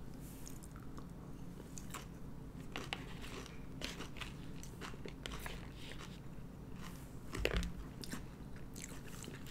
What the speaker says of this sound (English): The crunch and the chewing and the ice cubes, which are nearly melted.